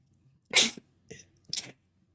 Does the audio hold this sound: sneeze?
yes